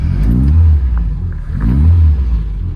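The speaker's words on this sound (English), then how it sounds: "So to start the car, it is cold at the moment." A cold 1992 Mini 1275cc engine, choke partly out, turns over and revs twice, each rev swelling then easing off, loud and close with a rough, buzzy idle beneath.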